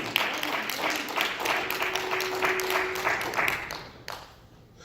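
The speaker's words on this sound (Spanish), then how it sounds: "Denle un aplauso al Señor" A church congregation applauds in praise, a dense wash of clapping with a faint tone held through the middle, fading toward the end.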